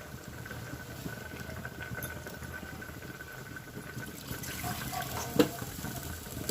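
A faint stream of water runs into a pot of khichdi toward the end, over a low steady background hum.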